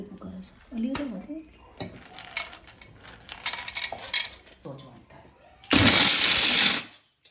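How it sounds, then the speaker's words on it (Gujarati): After a person talks over clinking utensils, a mixer grinder roars loudly for about a second while grinding dried coconut, almonds, cashews and pistachios, then cuts off abruptly. "ટોપરું ખારે બદામ કાજુ પિસ્તા બધું મિક્સ કરી એને મિક્સરમાં ગ્રાઇન્ડ કરીશું"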